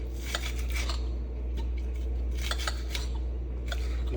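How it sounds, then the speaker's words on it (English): A knife cutting green scallions on a board, a series of quick close taps and clicks in uneven bursts over a steady low kitchen hum. "I'm gonna cut up some of these green scallions"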